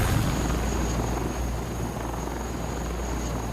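A Tiger combat helicopter flies steadily overhead, its rotor and engine making a continuous droning roar with a thin high whine, no voices.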